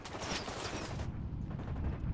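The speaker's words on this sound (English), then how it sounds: "Now my guys are taking shots at him." Computer-controlled squadmates in the video game Ghost Recon Wildlands fire a dense burst of rifle shots for about a second, then the shooting drops to a low rumble with scattered quieter shots.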